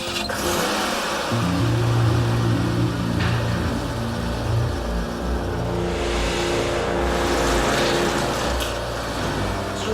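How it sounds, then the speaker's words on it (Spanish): A car engine starts up inside a garage and keeps running, settling into a steady mid-pitched hum with slight revving, fairly close and with no one talking. "Entra en el garaje y enciende el motor del coche."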